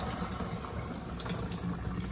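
Beaten avocado-skin paper pulp is poured slowly into a fine-mesh colander, giving a soft continuous watery pour and trickle, close and quiet.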